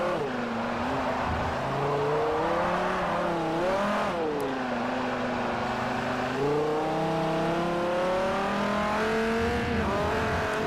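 A nearly 900-horsepower Dodge race car in Forza Motorsport 4 revs hard through wheelspin, its engine pitch climbing and dropping across several throttle surges, loud and steady with tyre noise underneath.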